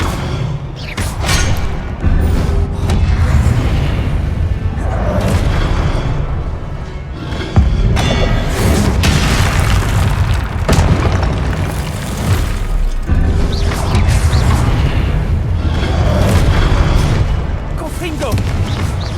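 Heavy booming blasts from the Confringo spell in a video game erupt again and again in loud bursts, close and powerful. A voice talks over and between the explosions.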